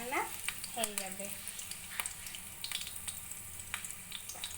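Whole garam masala, small cardamom, chilli and onions frying in a pan for an egg curry, a faint steady sizzle with scattered clicks of stirring and a brief voice-like sweep at the start.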